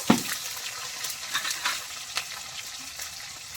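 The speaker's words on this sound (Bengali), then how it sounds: "টমেটোটা একটু ভেজে নেব।" Chopped tomato with ginger paste frying in a hot pan for a radish ghonto, a soft steady sizzle with a few brief stirring scrapes, close and fairly quiet.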